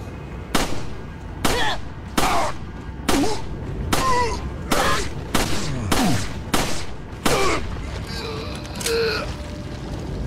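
Repeated gunshots from the video game Resident Evil 4, about a dozen sharp, loud reports fired in a steady rhythm roughly every half second to second, each with a short metallic ring, with no talk over them.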